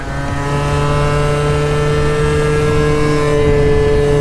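A modified scooter runs at full throttle during a top-speed run, its engine holding a loud, steady high-pitched drone with strong harmonics and slowly rising pitch, close and continuous.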